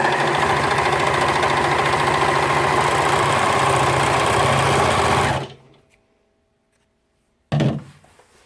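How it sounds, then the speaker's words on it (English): A serger overlocks the edge of cosplay fabric with four threads, running as a loud, steady mechanical whir for about five seconds, then stopping, followed by silence and a short final burst. "it instantly cuts and sews the fabric"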